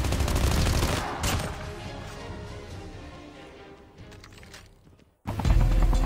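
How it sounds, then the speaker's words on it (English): Gunfire from Call of Duty Mobile rattles in a loud burst, fades into a quieter rumbling stretch, then another sharp volley erupts near the end, with no talking. "Oops, a gunshot."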